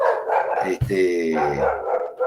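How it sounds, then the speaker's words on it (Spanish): A dog barks once, sharp and fairly near, cutting into a voice as he keeps talking through a lecture on family systems. "O el perro ladra. Tengo acá uno ladrando"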